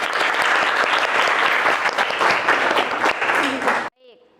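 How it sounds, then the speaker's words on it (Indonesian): A classroom of students claps together in loud, continuous applause for a few seconds, then it stops abruptly and a brief faint sound follows. "Tepuk tangan untuk kalian."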